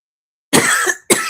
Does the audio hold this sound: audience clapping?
no